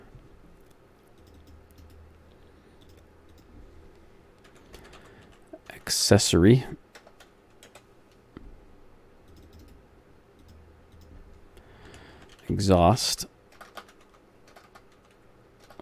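Computer keyboard typing comes in two short, loud bursts of rapid clicking, each lasting under a second and separated by quieter stretches with someone speaking occasionally.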